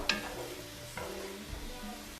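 Steak pieces cooking for steak street tacos in a skillet, with a steady sizzle and light stirring scrapes close by, continuous and fairly quiet, no talking.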